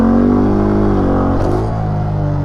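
A car engine held at steady high revs with the throttle fixed while the foot brake is applied, loud and close, the pitch sagging slightly as the brake drags the RPM down.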